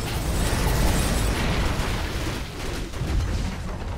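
Barracks destroyed in Dota 2 with a loud, rumbling explosion that swells, falls back and then swells again over a few seconds amid crackling game noise, with no talk.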